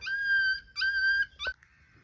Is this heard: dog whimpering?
yes